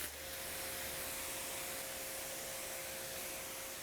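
A water spray rinses soap off a car, a steady, fairly quiet hiss that runs without a break and without talk.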